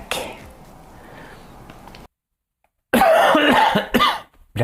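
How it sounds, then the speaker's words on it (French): A harsh, loud fit of coughing breaks out after a stretch of background murmur and a short silence, several rough coughs in close succession. "J'attendais la fin du spectacle pour pouvoir tousser."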